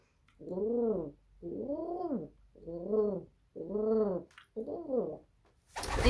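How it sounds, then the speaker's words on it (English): A pigeon gives five rippling, warbling coos in a row, each about a second long with short pauses between, close and clear against quiet. "it's a coo that kind of ripples almost like the gobbling of a turkey"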